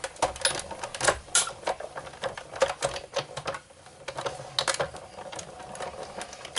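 A paper die-cutting machine cuts a shape out of cardstock for a holiday snow globe ornament. It gives a close, rapid mechanical clatter and rattle in uneven bursts, with a brief quieter pause partway through.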